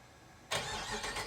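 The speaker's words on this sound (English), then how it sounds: "So for a stock exhaust, it's pretty loud." A 2018 Dodge Charger R/T with the 5.7 engine and stock active exhaust fires up after a short drive, then settles into a loud, steady, close rumble after a quiet second.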